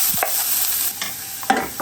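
Curry, onion and garlic fry in olive oil in a pan, giving a close, steady sizzle broken by several scraping stirs of a utensil against the pan, with no talk.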